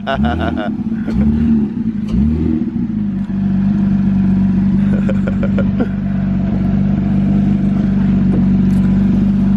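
A 2018 Porsche 911 GT3 manual idles with a low steady drone, after a few short revs near the start, limited to 4,000 rpm while stationary, with people talking over it.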